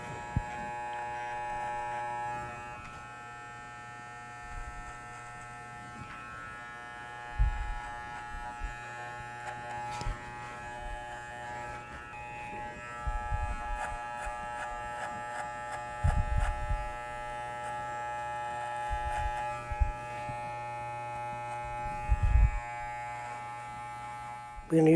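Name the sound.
electric hair clipper tapering hair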